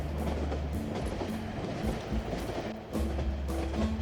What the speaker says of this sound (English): I can't stop that train.